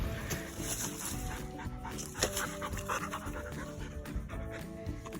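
A dog pants steadily with quick rhythmic breaths, close and faint, against a busy background wash of noise.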